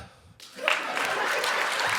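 A comedy one-man show audience bursts into applause after a quiet moment, and the clapping swells and holds steady to the end.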